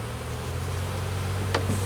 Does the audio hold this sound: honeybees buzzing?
yes